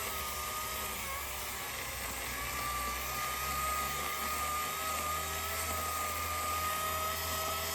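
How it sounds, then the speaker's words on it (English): A steady, high-pitched electric chainsaw motor whine with a low hum underneath, cutting spruce, continuous and fairly close, running without pause; no voices. "We also had a chainsaw bite the dust as well, so Rob's using the electric right now."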